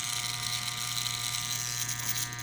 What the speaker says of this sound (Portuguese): Vou mostrar para vocês aqui o barulhinho que ela ficou.